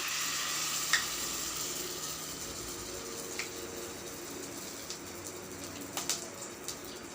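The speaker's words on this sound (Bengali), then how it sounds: "এবারে এটাকে কড়াইয়ে গরম তেলে ছেড়ে দেব" Fish-roe fritters wrapped in pumpkin leaves sizzle steadily in hot oil in a wok, a constant crackling hiss with occasional sharper pops and stirring clinks.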